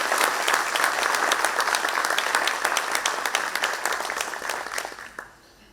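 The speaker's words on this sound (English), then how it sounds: "let's give a big round of applause" A school district audience gives sustained, loud applause for the 2025-2026 EPISD Teachers of the Year, a dense wash of clapping that fades out near the end.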